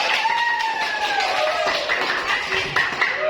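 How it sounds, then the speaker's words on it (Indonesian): Hand clapping at an Indonesian school lesson, where a class performs a counted clap routine ending in applause; a run of quick sharp claps with rising and falling voices mixed in, fairly close. "Tepuk satu, tepuk dua, tepuk tiga, tepuk tangan."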